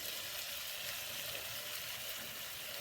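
Salmon fillet pan-searing in a frying pan, a steady broadband sizzle and crackle that holds unbroken and fairly close throughout, with no voices over it.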